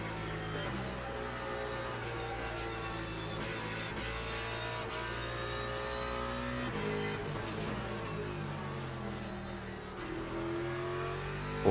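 Race cars, a Ford and an AMG, in the racing game Le Mans Ultimate, with a continuous engine drone that rises and falls as the cars accelerate and shift, under occasional talk.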